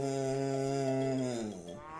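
A voice imitates a cow mooing with one long, steady, droning tone that slides downward and fades at the end, close and alone.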